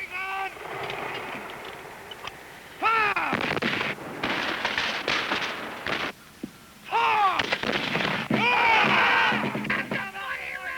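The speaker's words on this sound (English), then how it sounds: "The British, just out of range of the rebels' muskets, opened with several volleys of fire to terrify those waiting on the hill." Battle film soundtrack of British musket volleys, repeated bursts of gunfire in loud clustered bursts with brief gaps, dense and continuous across the scene.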